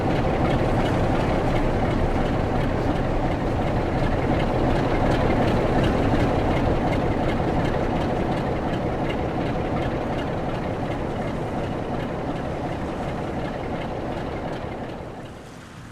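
Class 47 diesel locomotive 47411 moving to the head shunt at Penzance, a loud, steady engine rumble with rail clatter that fades slightly toward the end.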